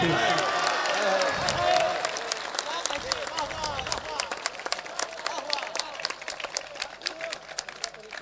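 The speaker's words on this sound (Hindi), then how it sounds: "आपने हिंदू परिवार के मुखिया के जवाब में तो तालियां बजाई" An audience at a mushaira poetry recital in Fakharpur Bazar breaks into applause, a dense, sustained patter of many hands clapping that slowly thins, with a voice speaking over it at the start.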